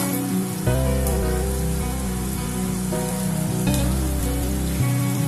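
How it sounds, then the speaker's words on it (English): Diced potatoes sauté in a hot pan, a steady sizzle and crackle running throughout beneath a layer of tonal background music. "Once the pan is heated up, we will first fry the potatoes or saute the potatoes for some time."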